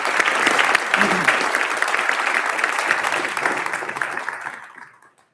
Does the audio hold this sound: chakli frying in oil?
no